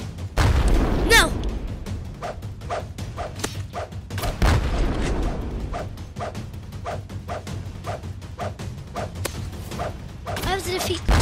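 Tank cannon fire and explosions in the War Simulator video game: repeated loud booms and rapid gunfire-like bursts, with excited voices talking throughout.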